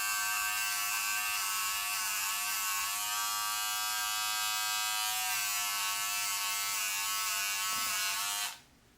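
A Gillette Styler Master electric trimmer shaving chest hair, a steady high-pitched motor buzz running continuously up close, then cutting off abruptly near the end.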